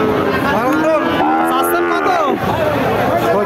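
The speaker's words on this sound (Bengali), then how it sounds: "পাকিস্তানি জাতের একটা বকনা বাচ্চা দর্শক দেখতে পাচ্ছেন বাছুরটা খুব চমৎকার একটা বকনা বাচ্চা পাকিস্তানি জাতের" A high-quality Pakistani (Shahiwal) breed heifer calf moos loudly and close by in one long, drawn-out call at a cattle market, with background chatter around it.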